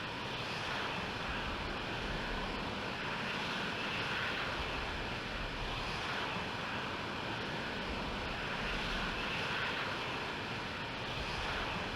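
A jet aircraft engine spools up for takeoff in the Falcon 4 Allied Force flight simulator, a continuous, even roar with a broad rushing hiss that holds steady throughout.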